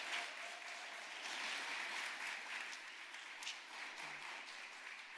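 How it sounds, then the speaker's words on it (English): An audience at an opening-remarks session gives a round of applause for the day's participants; steady, moderately distant clapping from many hands, unbroken and without voices. "I think you deserve a big round of applause for everyone participating today."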